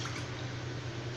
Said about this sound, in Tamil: நான் மிக்ஸி ஜாரை அலசிட்டு தண்ணி சேர்த்துக்கிறேன்